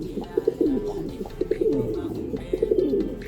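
Two pigeons, a red check and a blue check, cooing close by in repeated soft throaty rolls, with faint background noise.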